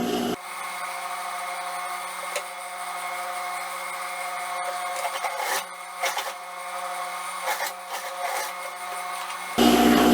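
A sewing machine stitches a small open section of an elastic-waist shorts seam, a steady close mechanical whir with faint clicks and brief stops, no talking.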